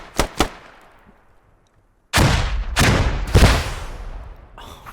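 Rockets and gunfire in the military shooter Squad: two quick close shots, a short lull, then three heavy, loud blasts in quick succession with ringing tails.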